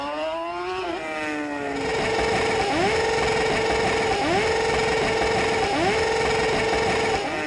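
A carbureted turbo Honda Hornet motorcycle engine roaring up through the gears, loud and close, with repeated rising revs broken by quick shift dips in a steady pattern.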